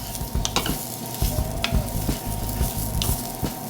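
Dry quinoa toasting in a pan with a spoon stirring through it, a continuous light sizzle broken by repeated scraping strokes and small taps, close and alone with no voices.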